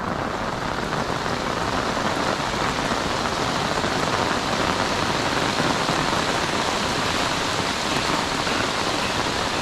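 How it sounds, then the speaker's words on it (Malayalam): Heavy rain pours down in Kannur in a dense, constant roar, loud and unbroken throughout, with no voices. "നല്ല കനത്ത മഴ"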